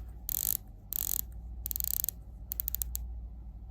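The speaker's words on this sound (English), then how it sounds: "better feeling sounding bezel in my opinion" Ceramic bezel on a Breitling Superocean dive watch being turned, giving several short bursts of fine, close ratcheting clicks separated by brief pauses.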